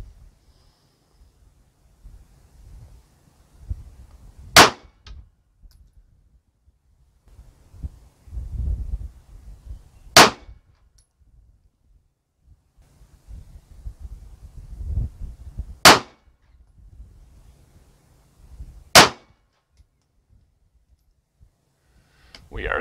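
Four sharp 9mm pistol shots firing 147 gr Winchester Silvertip rounds ring out, spaced several seconds apart, with low rustling and handling noise between them.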